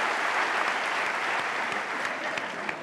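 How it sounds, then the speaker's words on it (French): An audience at a comedy show claps in a dense, sustained round of applause, with a few sharper individual claps popping out near the end as it begins to fade slightly. "tu mérites des applaudissements"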